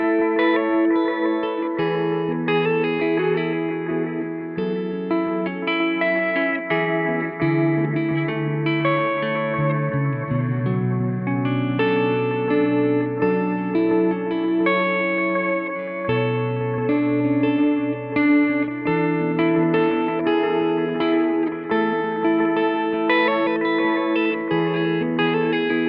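Electric guitar through a modeling unit set for a Halo-style delay, a continuous played passage of ringing chords and notes with echoing repeats, chorus shimmer and reverb tails, loud and close with no talking.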